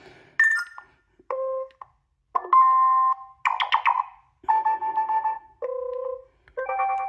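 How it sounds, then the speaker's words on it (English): A sequence of short electronic tones and melodic ringtone snippets from an emporia TOUCHsmart.3 phone, each a second or so long, separated by brief pauses, loud and clear with no talking. "So there's loads of ringtones in there for you."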